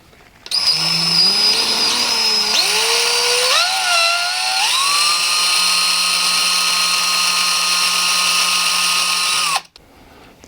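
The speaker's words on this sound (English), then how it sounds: "I'm going to drill some holes down the side of this neck" A power drill bores holes into the side of a Les Paul Custom guitar neck for side markers, a loud steady whine with pitch shifts as the bit spins up and cuts, running continuously for about nine seconds before stopping.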